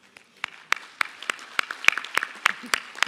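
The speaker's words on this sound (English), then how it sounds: "Please join me in thanking all of them for their time, dedication, and service with an additional round of applause." Sparse, scattered clapping from an audience at an annual business meeting, individual distinct claps at an irregular rhythm rather than a full ovation, fairly close.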